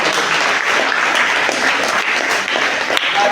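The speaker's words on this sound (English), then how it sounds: "Give me a big round of applause." Sustained applause from an audience at a personality development and life skills training session, a dense, even wash of clapping throughout with no talk.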